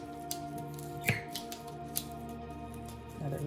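Kitchen knife slicing through a sprouting onion near the root, a few soft crisp cuts and squishy snips over a steady low hum, close, with no talking.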